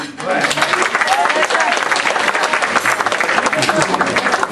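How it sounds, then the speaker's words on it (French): An audience applauds a man named Michel before he is called onstage for a gift, a loud, dense and continuous wall of clapping that holds steady throughout. "vous pouvez l'applaudir"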